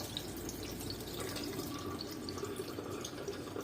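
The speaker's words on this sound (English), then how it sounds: "Then I need to wash the rice. Wash the rice 3 times." Water swishes and trickles as rice is rinsed, with drips and splashing in a sink, close and fairly quiet, no talking.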